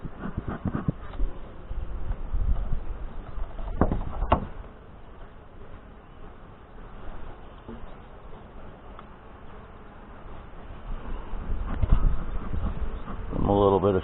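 Honey bees from a Saskatraz hive in northwest Wisconsin hum in a low, steady buzz around the opened hive, with a few sharp knocks and handling noises over the drone.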